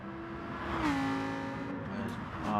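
A race car, with a Lamborghini mentioned, engine rising and falling in pitch as it enters the pits, a moderately loud tonal drone that swells briefly then settles.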